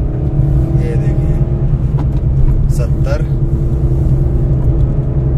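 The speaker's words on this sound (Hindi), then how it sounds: "गाड़ी के आवाज़ ही आपको समझ आ जाएगा कि ये 80 पे भाग रही है" Engine of a Maruti Dzire Tour car held at about 80 km/h by a speed governor, a steady loud drone and road rumble throughout, with a voice speaking briefly over it.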